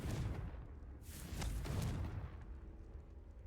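A Confringo fire spell explodes in Hogwarts Legacy, a booming blast swelling around the one-second mark and fading over a rumbling game backdrop, with no talk.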